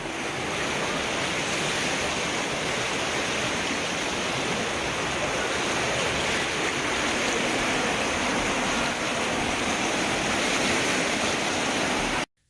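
Floodwater after heavy rain, a river that rose suddenly, roars loudly and steadily as a close, broad wash of rushing water, unbroken for the whole stretch with no voices over it.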